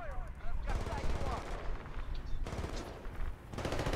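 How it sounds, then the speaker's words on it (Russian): Machine gun fire rattles in the video game Battlefield Bad Company 2, dense bursts of rapid shots in several loud stretches with brief pauses between, while someone talks under the gunfire. "Пулемет."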